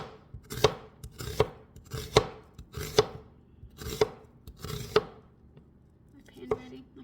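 An onion with a few bad spots is sliced thin with a knife on a new cutting board: six crisp, evenly spaced cuts, each knocking on the board, then one softer cut after a short pause.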